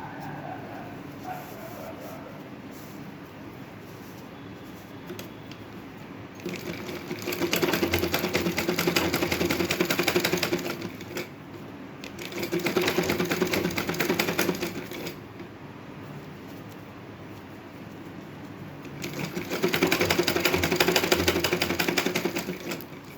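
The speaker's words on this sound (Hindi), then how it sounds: "पट्टियों को भी मैं ऐसे दोनों तरफ से सिलाई लगा लूँगी, सेम ऐसे ही जैसे चप्पल पे लगाई थी।" A sewing machine stitches along both sides of the straps for handmade indoor slippers, running in three long loud bursts of rapid whirring with quieter pauses between, and faint dog yips in the background.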